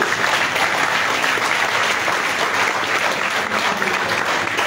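Dense, loud, sustained applause from a large hall of teachers at a union general assembly, a continuous roar of clapping hands with crowd noise mixed in.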